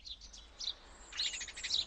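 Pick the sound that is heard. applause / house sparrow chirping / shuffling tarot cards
house sparrow chirping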